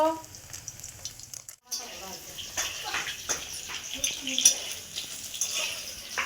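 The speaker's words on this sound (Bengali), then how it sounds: "এই যে পনিরটা ভেজে নিয়ে ভেজে নিচ্ছি" Paneer fries in a pan for a vegetarian paneer biryani, sizzling and spattering with stirring sounds, preceded by a brief pause and accompanied by a voice talking over the cooking.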